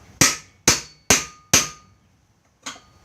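Hammer knocking on the wooden pieces of a coffee table mock-up: four sharp, evenly spaced knocks, a pause, then a fifth softer one, close and loud with no talk.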